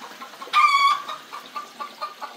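A homestead chicken gives a loud, drawn-out squawk up close, followed by a series of shorter soft clucks spaced irregularly, with no one talking.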